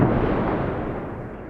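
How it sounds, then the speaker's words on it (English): A loud, deep, rumbling explosion during an overnight Russian drone and missile attack on Kyiv fades steadily away as it echoes across the distance, with no voices. "Loud explosions and fireballs in Kyiv."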